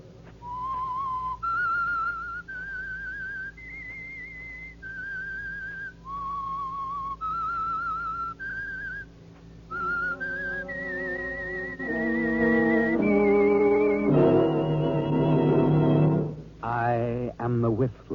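A clear whistled melody of sustained, sliding notes, the theme of the radio drama The Whistler, joined partway through by fuller instrumental accompaniment that swells toward the end.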